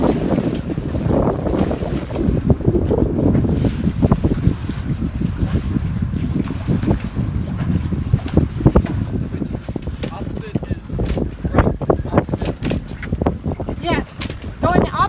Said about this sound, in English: So Olivia, how's the constant sound of waves crashing on your face?